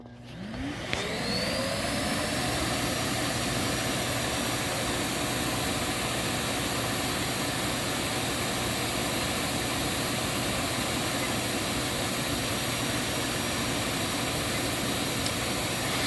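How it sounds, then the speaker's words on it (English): A Hoover CH32008 Hushtone vacuum cleaner starts up and spins to full speed, then runs as a steady, loud, even whine with a broad airflow rush for the rest of the clip, alone without talk. "start it up."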